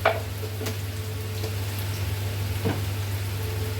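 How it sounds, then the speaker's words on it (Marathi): Onion and tomato sauté together in a pan with a soft, steady sizzle over a constant low hum, punctuated by a few light clinks, with no speech. "आता कांदा परतो त्यावरच टमाटा पण परतवते"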